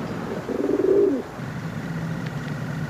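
Pigeons cooing in a wartime loft setting, a soft burbling coo swelling for about a second near the start, then a low steady background with faint murmurs.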